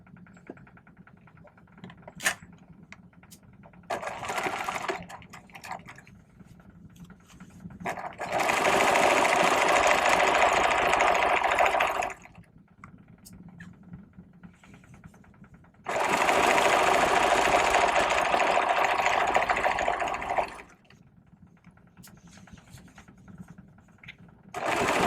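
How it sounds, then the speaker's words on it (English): Sewing machine stitching a 5/8 inch seam in vest bag lining fabric, two long runs of fast, loud whirring separated by quieter pauses with brief short bursts before them. "And now we're just going to stitch ourselves a 5/8 inch seam."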